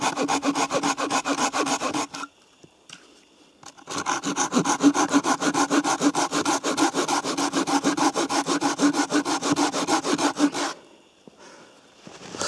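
A Fiskars or Bahco folding saw cuts through wood in quick, even rasping strokes, with a brief pause partway through before the steady sawing resumes and then stops near the end.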